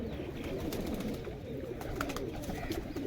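A pigeon coos softly amid other birds in a loft, low repeated cooing under faint chirps and background hum, quiet and close.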